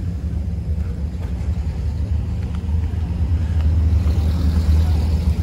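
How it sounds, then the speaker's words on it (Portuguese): Aircooled Volkswagens roll in to a car meet in Pomerode, Brazil, producing a steady low engine rumble and idling hum that swells slightly toward the end, with no clear voices. "como vocês podem ver, tem bastante carro para entrar ainda no evento"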